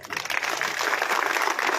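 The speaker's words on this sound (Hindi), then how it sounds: "मंच के लिए एक बार तालियां बजाइए।" An audience at a BJP urban farmers' conference applauds in a brief, moderately loud burst of dense clapping.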